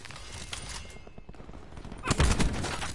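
Video game gunfire crackles in quick bursts, a quieter stretch of shots giving way to a louder, denser volley near the end, close and sharp.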